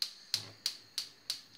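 Five evenly spaced sharp clicks from a stove burner igniter, quiet and close, each with a brief bright tick.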